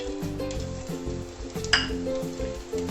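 Green chilies dropped into heated oil in a pan, giving a steady loud sizzle and frying crackle with a single sharp metallic clink partway through.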